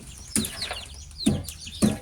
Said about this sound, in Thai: ผมมีแม่ไก่อยู่ทั้งหมด 40 แม่นะครั